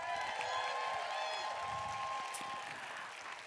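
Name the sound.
audience applause for Melanie DeMore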